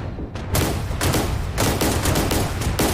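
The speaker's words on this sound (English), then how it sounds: "We're still firing, you know." Vietnam-era anti-aircraft guns firing in the flight simulator DCS World: a dense, sustained fusillade of rapid booming shots blending into a continuous roar after a brief quieter start, loud throughout.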